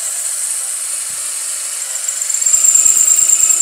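A handheld power drill whines at high pitch as it bores through a metal brake part, the steady tone growing rougher with chattering bursts as the bit bites.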